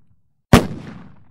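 A rifle shot fired blindly toward a large bush cracks out loud and close after a brief silence, then rings off in a decaying echo; a single sharp report is evident rather than two distinct shots.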